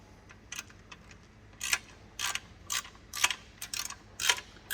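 A ratchet or wrench clicking in short bursts as bolts are tightened on a brace for a KTM radiator guard, with a rhythmic series of crisp metallic ticks close by and no talking.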